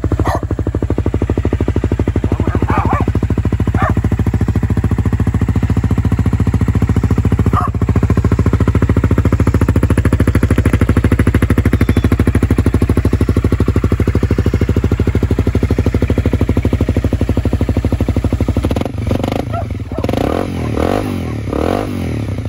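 A 2013 Honda CBR250R with 7,400 miles idles in neutral, a loud, steady, close engine drone with a rapid mechanical rhythm that keeps going until a brief unsettled stretch near the end.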